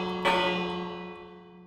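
A single bell strike from the Minecraft bell block with the Enchanted Forest texture pack rings out clearly and then hums on in a steady, slowly fading sustain.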